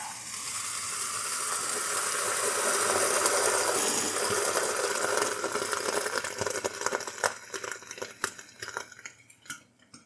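Loud, hissing sizzle of water hitting a hot pan of potstickers, fading as it steams, followed by a few clinks of a lid or utensil.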